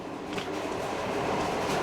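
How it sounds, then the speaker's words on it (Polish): A loud train rumbles steadily through the video game Metro Exodus, its dense clattering wagon noise filling the whole stretch without a break. "ale głośny ten pociąg"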